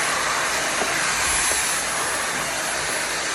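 A nice little vacuum sucks up debris while drawer faceplates are being repaired, giving a loud, steady, continuous whooshing roar that runs the whole time with no voices.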